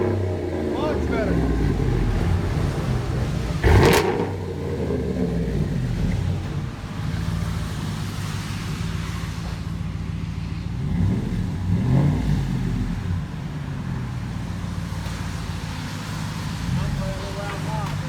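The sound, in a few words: Dodge Ram 5.7 Hemi engine, Flowmaster Super 10 exhaust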